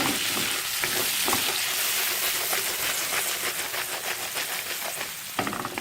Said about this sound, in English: Adding salt as required. Give this a good stir.